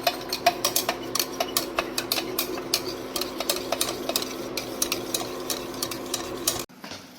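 Aloe vera gel being stirred into a homemade soap base, giving a steady run of light, regular scraping ticks and clicks from a utensil against the container, fairly close, with no talk, stopping abruptly near the end.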